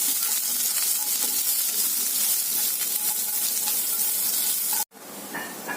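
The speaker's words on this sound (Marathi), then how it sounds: "आता आपण त्यामध्ये कांदा घालूया. तो पण लाल होईपर्यंत परतायचं आपल्याला मीडियम गॅसवरती." Chopped onion frying in a pan with already-roasted garlic and ginger over medium heat, for a Maharashtrian jackfruit-seed bhaji: a steady, dense close sizzle that cuts out briefly near the end, then resumes more quietly.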